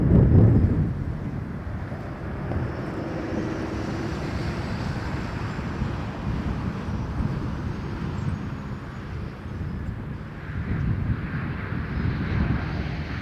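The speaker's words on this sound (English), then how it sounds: "Delta coming in" A Delta airliner lands on runway 06 right at Toronto Pearson Airport, its engines a broad, low roar heard from grass beside the road, rising again toward the end, with wind buffeting the microphone.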